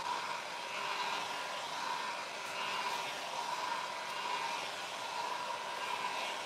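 A heat gun drying paint on a thrifted piece of furniture blows with a steady, loud whooshing roar that runs continuously and evenly throughout.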